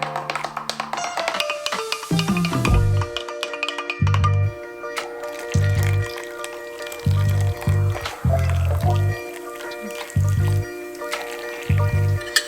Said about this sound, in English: So I'm going to mix it in with the water.